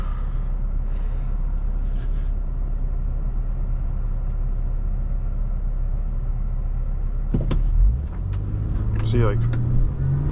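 A 2007 Honda Accord Coupe EX-L V6 cruises with a steady low engine drone and road rumble inside the cabin, and someone talks briefly near the end.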